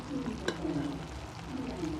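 Schezwan fried rice being stirred in a home frying pan, with a soft sizzle and scraping strokes of a spoon close by, one sharp clink near the start.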